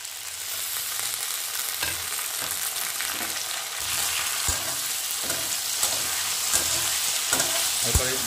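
Ground tomato and ginger frying in a pan over medium flame for a no-onion matar paneer, a steady close sizzle with occasional sharp spatula knocks and scrapes, no talking.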